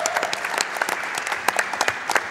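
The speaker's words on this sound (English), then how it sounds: "So round of applause for that." A crowd applauds at a Summer Games Done Quick 2017 speedrunning charity event, sustained even clapping with scattered louder claps, filling the whole moment without talk.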